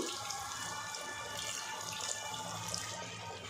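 A steady rush of water pouring into dough, continuous and fairly close, with no pauses or voices over it.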